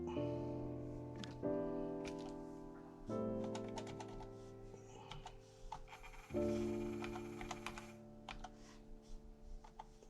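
Typing on the keyboard of a Tandy 1100 FD computer: quiet, steady clacking keystrokes in irregular bursts, close by and heard alone with no talking.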